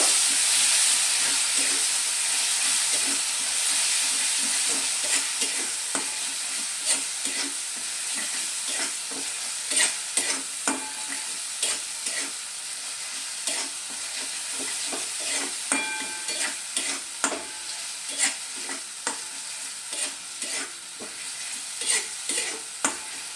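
Tomato paste fries in oil in a pan for a Bengali spinach and cabbage dish, hissing steadily while a spatula scrapes and knocks against the pan in quick repeated strokes, close up, with no talking.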